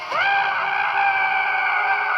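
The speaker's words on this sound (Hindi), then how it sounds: "कुछ ही देर बाद गांव वालों ने सोहम की रूह कपकपा देने वाली चीख सुनी" A bloodcurdling human scream used as a horror-story sound effect, a single loud sustained shriek lasting about two seconds, heard alone and up close.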